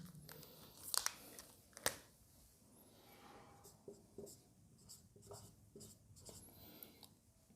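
Pen scratching on paper while a maths solution for a Class 12 derivatives exercise is written out, quiet and close, with irregular strokes and a couple of sharper taps.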